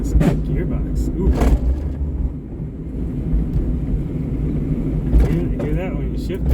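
Gearbox of a K24-swapped Honda Insight shifting gears while driving, a steady engine and road drone with brief clunks and rough mechanical noise around the shifts, heard from inside the car.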